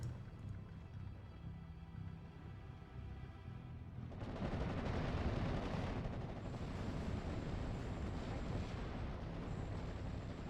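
An artillery barrage in the WWII strategy game Steel Division 44 arrives as a sudden burst of rumbling explosions that swells and then keeps up a dense, sustained roar of impacts, faint and distant.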